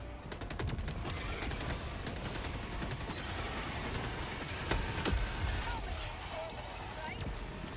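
Rapid gunfire from a deployed sentry turret in Helldivers 2, a dense, steady stream of shots that runs the whole length, with explosions and other battle noise layered under a voice.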